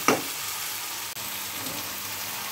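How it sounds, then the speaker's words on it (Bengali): Katla fish coated in spices and garam masala frying in a pan, giving a steady, close hiss of sizzling oil with a brief burst as the fish goes in, no talking. "এইবারে মাছটা আমি এর মধ্যে দিয়ে দিলাম। এবার একটু কষবো।"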